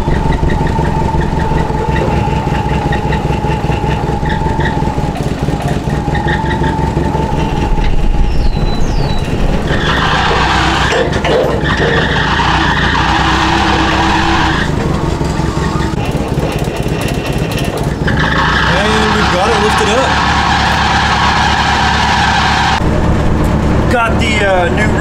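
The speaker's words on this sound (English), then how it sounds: "We've got some flat tires, so we're gonna go ahead and lift it up. With the forklift." A forklift engine runs loud and close while lifting an old Ford with flat tires, a steady rumbling drone with brighter mechanical whine rising partway through.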